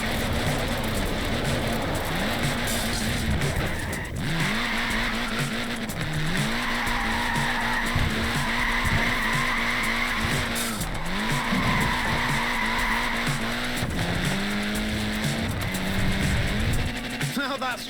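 Small tyres on a Lego Mini in the Forza Horizon 4 racing game skid and squeal in long, repeated wavering screeches over a buzzing engine. The sound is loud and continuous, with a voice talking over it.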